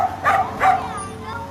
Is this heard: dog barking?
yes